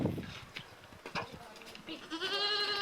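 Goats bleating in a rural village setting, a wavering, tonal bleat rising near the end over a noisy background, with brief knocks and rustling earlier.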